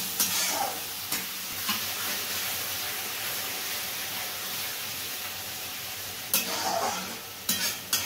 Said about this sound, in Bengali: আর একটু জল দিয়ে মশলাটা কষতে হচ্ছে